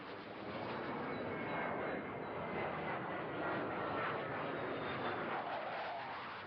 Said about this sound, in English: a plane has been flying over the area every minute